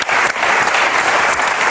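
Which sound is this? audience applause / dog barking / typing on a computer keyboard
audience applause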